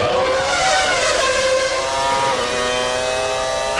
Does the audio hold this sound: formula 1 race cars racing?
yes